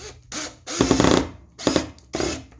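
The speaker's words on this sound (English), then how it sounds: "Screwdriver." Bursts of a power screwdriver driving screws during a Chinese screen press build, four separate whirring runs with short gaps between them, close and loud with no talking.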